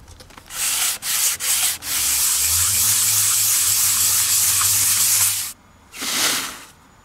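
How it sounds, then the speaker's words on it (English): Close, loud sanding strokes of a sanding block with 400 grit paper on a Fender Telecaster's guitar body: a few quick short rubs, then a long continuous scrape, a pause, and one final stroke. "I'm sanding it with a sanding block, trying to get it level."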